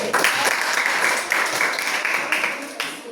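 Students in a class give a short round of applause for a group that has just presented, a lively burst of many hands clapping close by for about three seconds.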